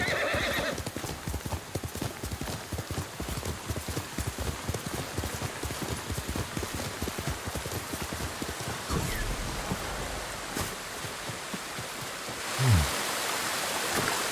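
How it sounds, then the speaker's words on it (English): Video game horse hooves in Ghost of Tsushima: steady clip-clop of trotting throughout, with a brief whinny near the end over a light rain-like background hiss. "Good horse."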